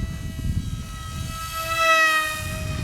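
A small XK A180 F22 Raptor foam RC airplane with a 3-axis/6-axis gyro makes a flyby, its electric motor giving a steady high whine that swells louder around its closest pass, then eases off.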